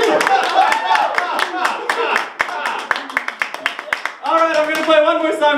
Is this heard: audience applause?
yes